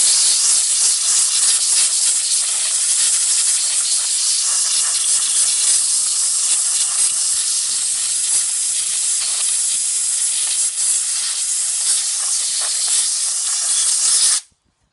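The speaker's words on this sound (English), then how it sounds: "I'm going to spray some WD in the lock cylinder" A can of WD-40 sprays steadily into the door lock cylinder of a 1997 Freightliner FLD truck, a close, loud continuous hiss that holds for about fourteen seconds before cutting off abruptly.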